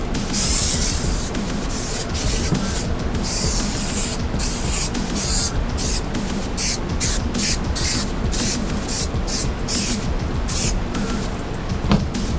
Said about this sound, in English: we're going to spray the edges of the back side of the plastic